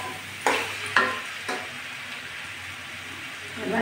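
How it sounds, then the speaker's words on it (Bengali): Chopped tomatoes hit a pan of frying dal dumplings with three sharp splashes and flares of sizzle, then a steady close frying hiss continues. "এবার আমি কুচিয়ে রাখা টমেটোগুলো দিয়ে দিচ্ছি।"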